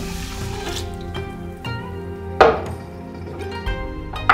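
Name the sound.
water poured into pot with rice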